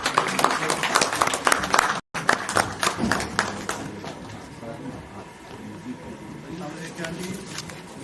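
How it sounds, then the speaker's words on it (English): Audience applause at an electronics and telecommunication engineers' national convention, dense clapping for about two seconds, a brief break, then more scattered, thinning claps with a speaking voice over the later part. "please give a big round of applause"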